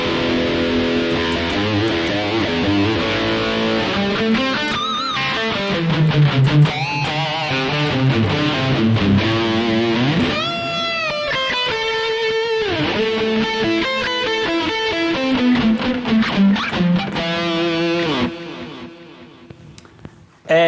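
Electric guitar played straight into an audio interface through a Rocktron Voodu Valve tube preamp, a continuous run of distorted chords and sustained lead notes with bends, loud and close throughout.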